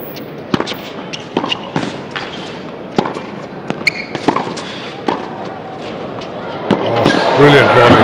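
Tennis match ball strikes during a rally with a racket volley, crisp sharp pops spaced irregularly over crowd ambience, with a rising crowd roar near the end and a commentator talking.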